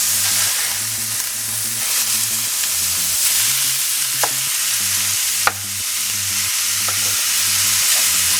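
Ground beef sizzling and frying in a pan, a loud continuous crackle and hiss, with a spatula stirring and scraping through it and a few sharp knocks against the pan.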